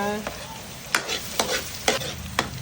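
Garlic sautés in a pan for ginisang munggo, a loud steady sizzle broken by four or five sharp stirring scrapes at roughly even intervals.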